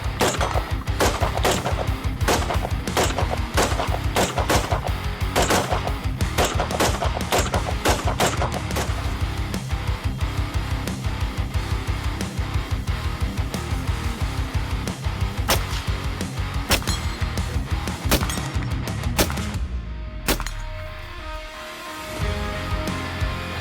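Rapid rifle fire from 5.56 and .223 rounds, dozens of sharp cracks in quick irregular succession, loud and close throughout, ending in a few final shots and a quieter tail.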